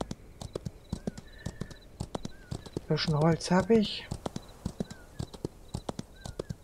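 Horse hooves clip-clop at a steady walking rhythm in the Western video game Outlaws of the Old West, a string of sharp, evenly spaced hoof hits under someone talking, with a short burst of other game sound midway.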